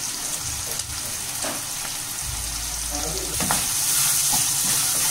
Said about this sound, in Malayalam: ഈ ടൈമിൽ നമ്മുടെ ഉള്ളി ഏകദേശം വഴുന്നു.